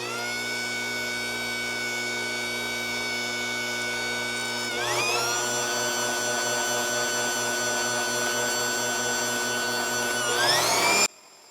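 Electric mixer whipping frosting at high speed: a steady, whining motor hum that jumps up in pitch when switched to a faster setting and climbs once more before cutting off abruptly.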